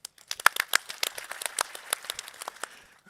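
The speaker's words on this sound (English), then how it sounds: "I really want all of us to give a round of applause to everyone that was out there that helped make this work" Applause from a small audience at an energy conference session, with sparse, uneven claps in separate bursts, moderately close and fairly quiet, thinning out over a few seconds.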